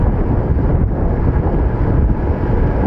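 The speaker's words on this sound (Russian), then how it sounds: "Ветрено, ветрено." Steady, loud wind buffeting the microphone of a cyclist riding a Fuji FIX fixed-gear bike on a sunny, windy September day, a continuous low rumble with no talk.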